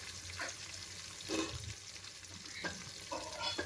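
Green chilies fry in a pan for garlic rice, with a soft, low sizzle and occasional scraping stirs of a spatula, fairly quiet and without talk.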